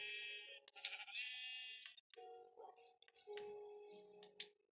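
A sheep in Minecraft bleats repeatedly as a wolf attacks it in the game, with several short wavering cries close and clear over near silence, plus a couple of sharp hit sounds.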